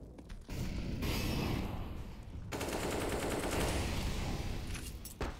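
Rapid automatic gunfire in Counter-Strike: Global Offensive on the Overpass map, shots punching through a wall, a loud continuous burst of crackling reports with a brief lull midway, then the firing picks up again.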